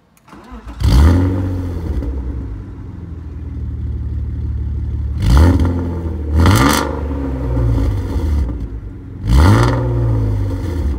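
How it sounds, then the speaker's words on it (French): A BMW E36 325 with its original manifold, exhaust line and stock 325 silencer revs hard, starting from a loud rise and then blipping in three sharp throttle bursts over a steady idle. "Écoutez le bruit d'une 36 325 qui d'origine, collecteur d'origine, ligne d'origine."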